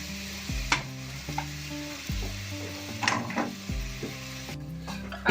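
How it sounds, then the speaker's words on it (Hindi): Jaggery melting in a little water in a pan over a gas flame gives a soft, steady sizzle and simmer, with a few stirring scrapes and a sustained tonal hum running underneath. "अब ये जो गुड़ है सब धीरे धीरे करके पिघल गया है"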